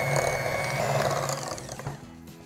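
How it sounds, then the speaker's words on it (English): Electric mixer whirring steadily as it beats softened butter in a bowl for sweet potato pie, a close mechanical buzz that slows and fades toward the end, heard alone. "we're gonna go ahead and take a mixer, or if you have a food processor"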